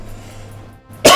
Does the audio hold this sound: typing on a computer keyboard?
no